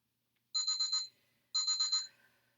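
A phone rings in two short trilling bursts separated by a pause, bright and fairly loud in an otherwise quiet room during a senior fitness workout.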